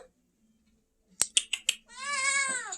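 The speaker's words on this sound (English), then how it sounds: "shortly as I figure out where a cat is yelling from" A house cat yells out one long, loud meow near the listener, preceded by a few sharp clicks and taps in an otherwise quiet room.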